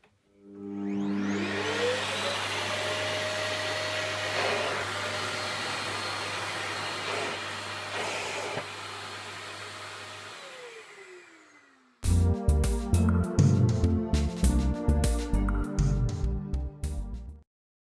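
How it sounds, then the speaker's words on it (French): A Thomas Aqua+ Allergy & Family vacuum cleaner starts up and runs with a loud, steady whine and roar, then winds down before a burst of loud rhythmic music. "Nous allons donc allumer l'aspirateur."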